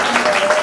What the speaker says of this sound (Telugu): క్లాప్స్ అందరూ ఒకసారి